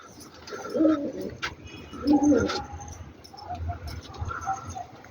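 A pigeon coos nearby in soft, low, rolling calls, two clear phrases followed by fainter cooing, with light outdoor background noise.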